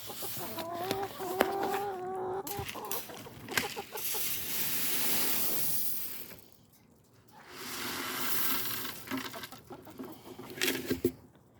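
Chickens cluck and murmur nearby in a rain-soaked chicken run amid steady outdoor rustle and patter, with brief quieter gaps between bursts of noise.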